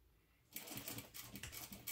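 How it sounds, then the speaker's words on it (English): A sewing machine starts up and stitches a tab to a clutch bag's lining flap, its fast mechanical rattle running loud and close after a brief quiet moment. "now I'm just sewing the tab to the lining flap front"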